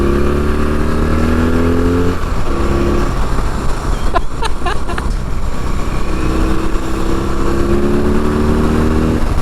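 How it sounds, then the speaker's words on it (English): A BMW R18 First Edition motorcycle pulls hard in third gear while overtaking, its engine note climbing in steady rising harmonics, dipping briefly around a gear or throttle change, then surging again, loud and close with wind rush. "Let's see what it's got overtaking per OS. So we're doing third gear."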